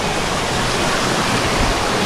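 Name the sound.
waterfall with strong rushing water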